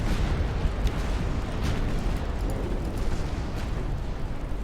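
Torpedo explosions striking ships in Ultimate Admiral Dreadnoughts, a rumbling barrage of booms with several sharper cracks standing out, loud and continuous for a few seconds.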